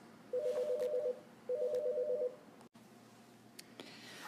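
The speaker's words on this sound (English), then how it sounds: "Got interrupted by a phone call" A telephone rings with an incoming call, two warbling electronic ring bursts of about a second each, close and clear, followed by a quiet room.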